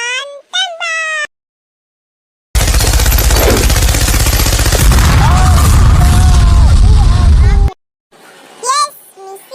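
Rapid cartoon gunfire effect from a transforming hero's firing power, a loud dense burst of repeated shots lasting about five seconds, with a character's voice before and after.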